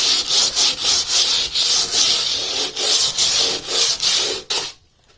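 Rhythmic, loud scratchy strokes of sandpaper rubbing back and forth over a hard wall surface, about a dozen passes, then stopping; 150-grit paper smoothing rough sanding above shower tile.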